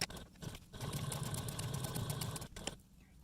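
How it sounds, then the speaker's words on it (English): A sewing machine running steadily at close range as it top stitches a folded fabric panel for a crossbody bag, a continuous rapid whirring hum with brief pauses near the start and end. "take this back to your machine and top stitch at a 1/8 seam allowance from the top folded edge"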